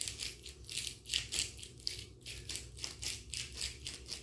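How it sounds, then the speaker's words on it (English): A garlic grinder is twisted in quick, rhythmic crunching bursts, about a dozen gritty rasps in a steady back-and-forth pattern, close and fairly quiet. "another good grind of garlic."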